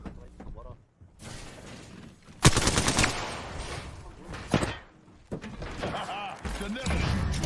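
Bursts of rapid video game gunfire crackle loudly in short volleys, with sharp impacts between them and a voice talking over part of the action.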